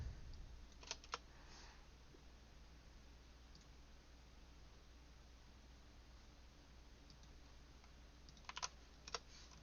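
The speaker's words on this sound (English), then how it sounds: "we can type this in" Faint, steady typing on a computer keyboard under a constant background hiss, with a few sharper key clicks near the start and end.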